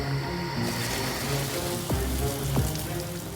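Heavy artificial rainfall from a professional rain machine pours in a dense, steady hiss of drops striking surfaces, loud and continuous, with a couple of faint low thuds partway through.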